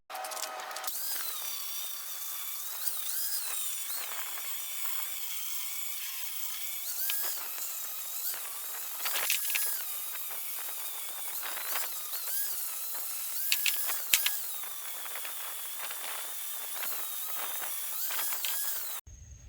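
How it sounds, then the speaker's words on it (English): Metal grinding on a go-kart frame, taking it down smooth to bare metal: a loud, continuous high-pitched whine holds throughout, shifting pitch slightly as pressure changes, with no talking. "we're gonna go ahead and grind this smooth, get a nice open or bare metal surface"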